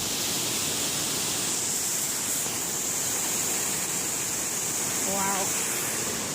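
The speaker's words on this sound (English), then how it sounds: "Same waterfall in the last one." A waterfall heard as a constant broadband rush, steady and fairly loud throughout, with a brief faint chirp-like sound partway through.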